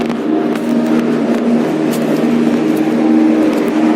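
Steady hum and whine of the Mexicable aerial cable car in Ecatepec, Mexico, picking up speed, a close continuous drone with a strong tonal note and faint rattles, no voices.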